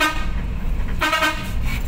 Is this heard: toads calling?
no